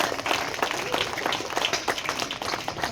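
Audience applause at a school annual day celebration at an Urdu school, a steady wash of many hands clapping at moderate distance, continuous with no clear gaps.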